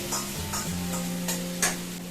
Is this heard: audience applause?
no